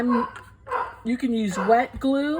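A pet dog yips and whines in short bursts close by, its barks mixed in with someone talking during a paper crafting session.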